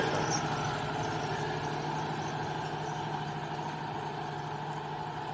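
A 640 tractor's diesel engine idles in a farm field, a steady, even, low chugging rumble that holds constant throughout, with no voices.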